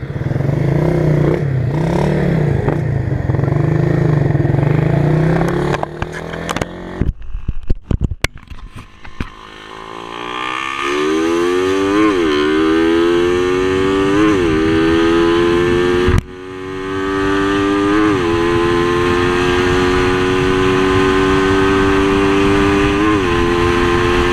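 A Raider 150 Fi refresh motorcycle climbing a short uphill stretch on a test ride, its engine loud and close, revving up in rising sweeps with gear shifts, briefly cutting out before pulling steadily again.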